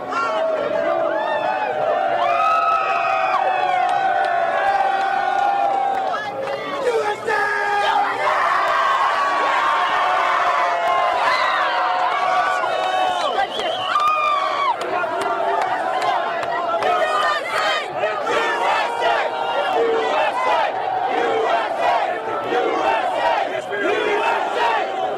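A large, loud World Cup crowd in Seattle chants and cheers continuously, many voices rising in rhythmic calls with whoops and shouts layered throughout.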